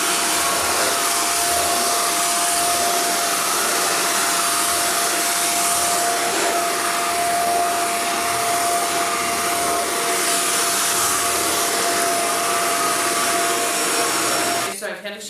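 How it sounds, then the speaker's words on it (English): A Shark Rotator Powered Lift Away vacuum cleaner running on stairs gives a loud, steady motor whine with a constant high-pitched hiss, unbroken for about fifteen seconds before the sound shifts briefly at the end. "I've had a chance to use the Shark vacuum a little bit"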